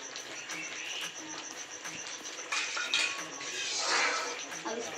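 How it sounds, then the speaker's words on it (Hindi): Semolina halwa stirred in a pan, a spoon scraping and clinking against the metal in an uneven rhythm, close up, with a faint high insect-like whine steady in the background. "हम ऐसे चलाते रहेंगे सूजी बनाते समय, ताकि मेरी सूजी नीचे लगे ना।"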